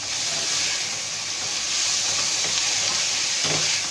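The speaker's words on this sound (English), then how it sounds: "then add these fresh tomatoes and these chopped green chilies. And now mix the entire contents." Fresh tomatoes and chopped green chilies sizzle with potatoes and capsicum in a pan while being stirred, giving a continuous close hiss of frying with soft scraping.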